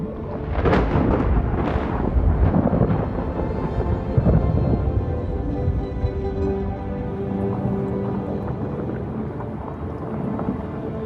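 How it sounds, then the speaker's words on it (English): A winter storm blowing in from the Pacific rolls as loud, heavy rumbling thunder that swells and fades in long waves, with wind noise throughout. "It's winter, and storms from the Pacific sweep in."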